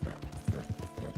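Horse hooves clip-clopping in the video game Red Dead Redemption 2, a quick, even gallop rhythm of soft thuds, moderately loud and steady with no speech.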